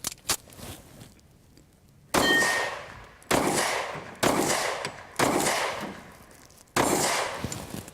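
Gunfire in a target-shooting game, heard as five sharp bursts of rapid clattering shots spaced a second or so apart, loud and close, after a quieter opening with faint background noise.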